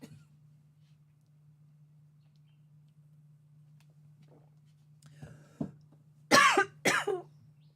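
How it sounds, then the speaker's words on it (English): Two close, sharp coughs in quick succession, preceded by a couple of small throat sounds, over a quiet, steady electrical hum. "I'm going to cough again."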